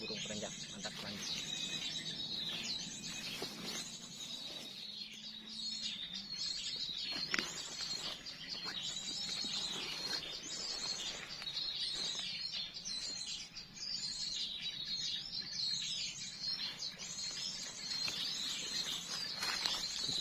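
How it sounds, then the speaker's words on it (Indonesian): Prenjak birds chirp outdoors at a bird-trapping spot. Thin, high, repeated calls run steadily at moderate distance, with low voices faintly underneath. "Ini burung apa ya, sate cabeannya kayaknya ini yang betina, dan ini burung perenjak."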